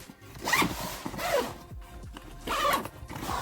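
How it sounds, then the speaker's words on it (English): A zipper drawn shut on a bag holding an iPad Pro 11 and its accessories, heard as several close, rasping pulls with short pauses between them. "and zip it up"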